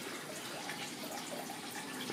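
Water from a bamboo water feature trickles and splashes continuously, running down into a pipe and sump at a soft, even level with no voices.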